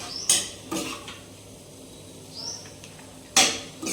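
Cooked broad bean and tomato curry is scooped from a cooking pan into a steel dish with a few close metallic clanks and scrapes spaced apart, over a soft background hiss.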